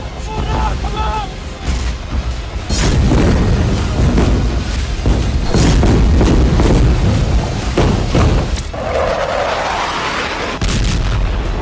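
Night-time air force bombing at the Indonesian Hospital in Gaza brings loud, rolling booms and rumbling blasts, one after another, with a sharp crack and a sustained roar near the end and voices faintly mixed in.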